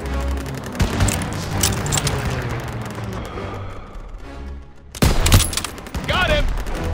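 Battlefield gunfire in the World War II shooter Call of Duty WWII, with dense overlapping rifle and machine-gun bursts, booming blasts and chaotic combat din, a loud fresh volley near the end.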